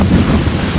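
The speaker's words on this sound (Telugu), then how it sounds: "ఏం వర్షం కొడుతుంది." A heavy rain and wind storm batters the road between Jagtial and Dharmaram. The wind buffets the microphone loudly in a dense, rumbling roar of rain and gusts that lasts the whole short moment.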